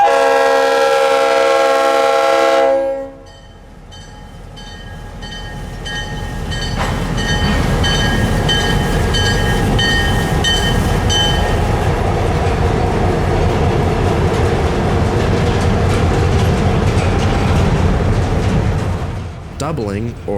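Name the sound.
diesel locomotives pulling train out of yard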